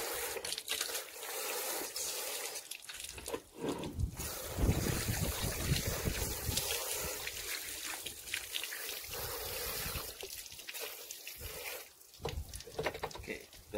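Tap water runs steadily while an elephant fish, also called an Australian ghostshark, is washed in a sink, a loud continuous hiss and splash with uneven surges as the flow hits the fish, and a voice speaks briefly.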